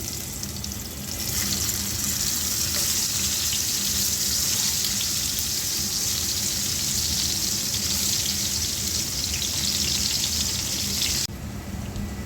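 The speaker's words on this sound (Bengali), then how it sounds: "শুধু মুরগি দিয়ে তো আর ভাত খাওয়া যাবে না, তাই কাঁকরোলটাও ভেজে নিচ্ছি।" Spiny gourd (kakrol) frying in a pan, a steady broadband sizzle that runs continuously at moderate level with no talk, then thins out near the end.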